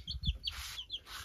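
Several chickens cluck in short repeated bursts around a village in Arunachal Pradesh, with bird chirps mixed in and no speech over them.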